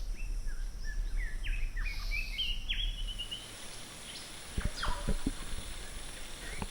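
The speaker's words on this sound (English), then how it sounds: "But come the wet season the birds come out and they're just everywhere in the treetops." Wet-season birds call from the treetops at Fogg Dam near Darwin, a series of faint descending whistled chirps followed by a few sharp clicks and calls over quiet background hum.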